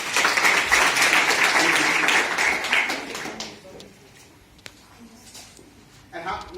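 Workshop audience clapping for a participant named Rahul at a campus-to-corporate training session: a loud, dense round of applause for about three seconds that dies down into quiet room tone, with a brief stir of sound near the end.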